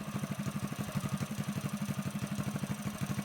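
A Predator 212 small gas engine with a Mikuni VM22 clone carburetor runs with a steady, rapid chugging pulse, close by, holding a fairly even pace.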